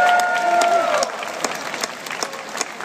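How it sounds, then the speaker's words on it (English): Applause from an audience for a live band, a steady wash of clapping that continues after a brief sustained tone at the start fades. "Let's have a big round of applause for the band."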